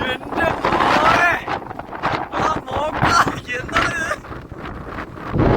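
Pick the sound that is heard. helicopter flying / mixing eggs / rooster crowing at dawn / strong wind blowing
strong wind blowing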